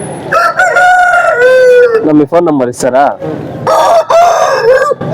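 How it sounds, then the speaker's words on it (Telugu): Roosters of good breeds crow loudly and close by at a poultry and sheep market in Baireddipalli, with long drawn-out calls overlapping clucks and a person speaking. "ఇప్పుడు చూడొచ్చు ఈ పుంజులంతా వాళ్ళవే అని చెప్తున్నారు ఆయన మంచి మంచి జాతి పుంజులు అయితే పెట్టినారు"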